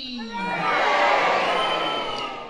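A crowd cheers a loud "hooray," many young voices rising together into a sustained shout that peaks midway and then tapers off.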